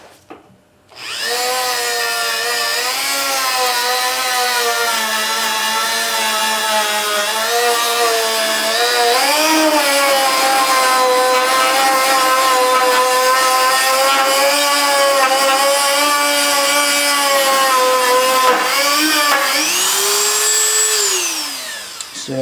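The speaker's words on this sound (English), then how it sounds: "let me get my little Dremel here" A high-pitched Dremel rotary tool whines steadily for about twenty seconds while scraping paint off a Ford F100 truck tailgate, its pitch dipping and recovering under load before spinning down at the end.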